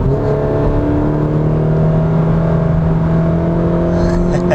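A 2017 Toyota 86 sports car engine revs hard after a downshift with paddle shifters in manual mode, a loud, steady, droning mechanical whine that climbs slightly in pitch throughout, with no talk.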